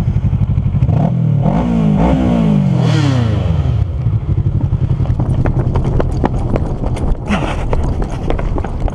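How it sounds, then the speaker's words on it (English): A Kawasaki Ninja 650R and a Honda 1000RR race on a bridge, loud engines revving and accelerating with rising pitch sweeps, then fading under rattling clatter and wind as the bikes pull away. "I'll rev three times, and then on the fourth, where the fourth rev should be, we go."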